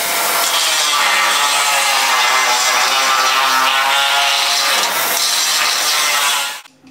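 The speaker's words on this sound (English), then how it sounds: "I used a Dremel tool with a fiber cutoff wheel and just kind of came in here and just kind of chiseled it out" A Dremel rotary tool with a fiber cutoff wheel grinds out a hole in a metal car frame mount during an LS engine swap, a loud continuous high-pitched whine that runs steadily for several seconds before spinning down at the end.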